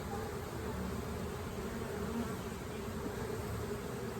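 Honey bees buzz around an open beehive during an inspection, a dense steady drone that stays at an even, fairly quiet level throughout with no voices.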